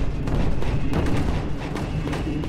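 Explosions in the Creeper World 4 strategy game sound as a rapid cluster of booming, thudding blasts that overlap into a loud, rumbling burst throughout, with no talk.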